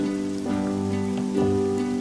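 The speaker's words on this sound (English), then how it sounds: "The rain began again. It fell heavily," Heavy rain falls in a steady wash beneath a sustained, droning musical backdrop, the patter swelling slightly near the end.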